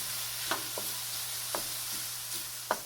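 Italian sausage sautéing with porcini mushroom powder in a pan, a low steady sizzle with a few soft spatula taps and scrapes, faint and unaccompanied by talk.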